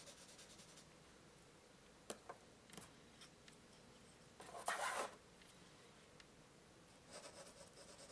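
HB graphite pencils scratch on paper in sparse, faint strokes, a few light ticks and one longer rubbing scribble near the middle. The sound is close and quiet, with no voices.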